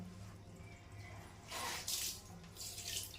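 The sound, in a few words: water running while washing clothes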